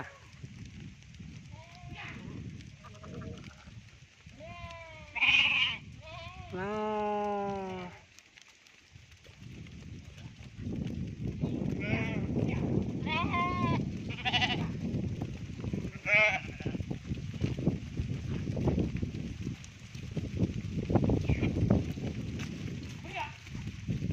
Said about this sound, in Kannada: ಕುರಿಗಳು ಸರ್.